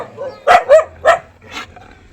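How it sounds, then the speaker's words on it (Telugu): Dogs fighting and barking, a quick run of four close, loud yelping barks with snarly edges in about a second and a half. "యా కుక్కలు దెబ్బలాడుకుంటున్నాయా?"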